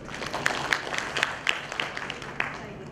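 Scattered handclaps from an audience at an education lecture, quiet and sparse, with separate claps spaced across a few seconds against soft room noise.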